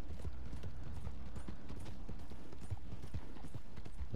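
Horse hooves clip-clop steadily in the Red Dead Redemption Online video game, a quick, continuous rhythm of hoofbeats at close range with no talk over it.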